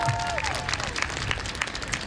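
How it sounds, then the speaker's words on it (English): Graduating-class audience at the Susan Miller Dorsey High School 2024 graduation ceremony applauds a speaker: a fairly quiet, steady crowd clapping with a brief whistle near the start. "Let's give her a round of applause, please."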